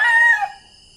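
A rooster crows at dawn around 5 AM in Ilocos Sur, one clear, close cock-a-doodle-doo that fades after half a second.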